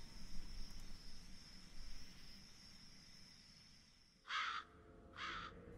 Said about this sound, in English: a new Halloween ambient noise can be heard in the background. This includes crickets chirping and some creepy laughs.